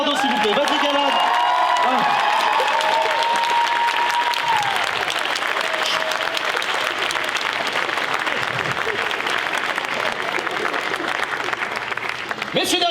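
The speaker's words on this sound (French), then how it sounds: "un applaudissement pour mon Bernardo, s'il vous plaît." Large audience applauding at a mentalism show in the Zénith arena in Strasbourg, a dense, steady wash of clapping lasting throughout, with faint cheering at first and a voice briefly speaking over it.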